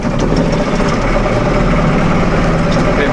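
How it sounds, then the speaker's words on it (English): A powerful tractor engine labours under a heavy load in a farm yard where concrete is being poured, a dense, continuous low rumble with steady vibration and no pauses, loud and close. "Bit of a strain on this tractor."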